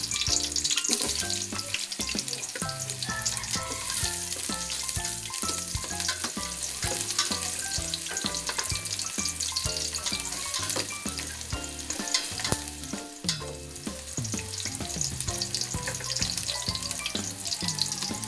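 Garlic frying in a pan as the base for chicken tinola, a continuous crackling sizzle close by, with rhythmic stirring scrapes throughout.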